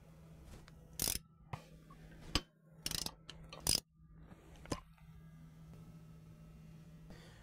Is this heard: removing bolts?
yes